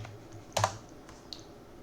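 Keystrokes on a computer keyboard while a file name is typed, heard as a brief cluster of near, moderately loud clicks with a fainter tap afterward.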